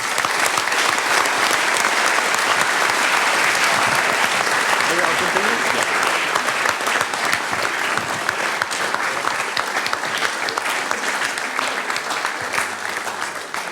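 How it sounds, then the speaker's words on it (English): Sustained applause from an audience at a biosensor contest event, a thick continuous roar of clapping lasting many seconds before slowly easing, with some voices beneath. "And I think maybe an applause."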